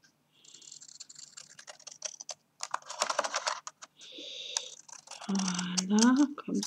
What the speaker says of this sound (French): J'ai mes ciseaux cranteurs. Je viens couper